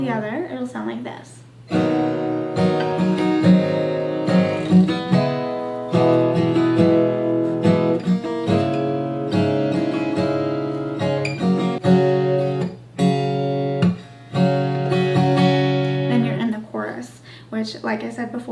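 Acoustic guitar strums the chords of a song in a repeating pattern of down and up strokes, muted chops and plucks, played close and loud with short pauses between phrases.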